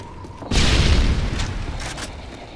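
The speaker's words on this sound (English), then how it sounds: "Nighthawk, you are cleared for bomb run on grid 2-9-1-1. HQ bombs away." A bomb-run airstrike in Call of Duty: Modern Warfare 3 erupts in a single loud, booming explosion, with a heavy low rumble that swells suddenly and then lingers as it slowly fades.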